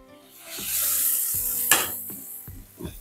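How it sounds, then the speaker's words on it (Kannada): Tempering poured into hot Karnataka-style mossoppu saaru, giving a loud hissing sizzle that swells and lingers, with a few stirring and pot clinks and a sharp clatter partway through. "ಈಗ ಒಗ್ಗರಣೆ ಇದಕ್ಕೆ ಹಾಕ್ಬಿಡ್ತೀನಿ"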